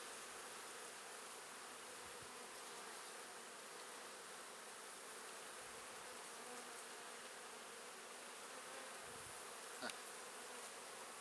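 A dense, steady hum of many honeybees buzzing close by at an opened hive, continuous and even throughout.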